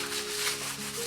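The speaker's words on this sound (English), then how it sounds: "So step two is going to be just scuffing up the paint, trying to smooth out" Steel wool scrubs over painted wheel rim metal to scuff it, making a brief, soft, close rasping rub with no talking.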